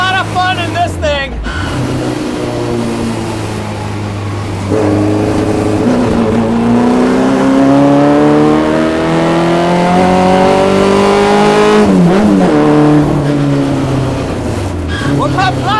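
A 1965 Morris Mini Cooper S race car engine climbs through the revs with a rising, buzzy note. A sharp shift breaks it off before it pulls hard again, loud and close from inside the car.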